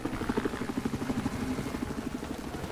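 A helicopter in the video game Battlefield 4 drones with a steady rotor chop, moderately distant, in a busy multiplayer match.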